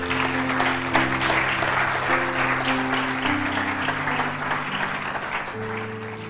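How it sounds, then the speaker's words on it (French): Congregation applauding at a French-language church service, steady clapping throughout with sustained organ or keyboard chords underneath. "Acclame Jésus pour ça."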